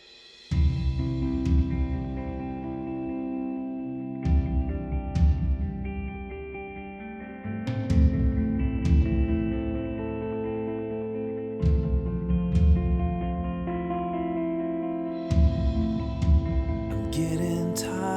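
Drum toms in a full song mix sound boomy and muddy, drenched in large reverb, with repeated tom fills recurring every few seconds under sustained instruments; the mix is dense and fairly loud throughout with no speech.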